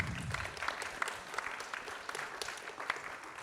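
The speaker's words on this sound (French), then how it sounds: "Je pense qu'on peut applaudir Marie-Pierre" Audience in a conference hall at a panel discussion on responsible European economy applauding, moderate continuous clapping heard at some distance.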